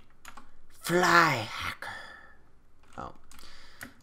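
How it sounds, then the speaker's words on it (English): Light computer keyboard clicks tap intermittently under a voice, soft and close, with a few sharper isolated keystrokes between phrases. "you can hear my keyboard clicks a little bit better"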